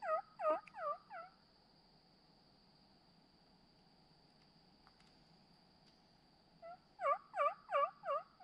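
A wild turkey longbeard gobbles twice, a burst at the start and another near the end, over a steady chorus of insects and quiet outdoor background in Mississippi.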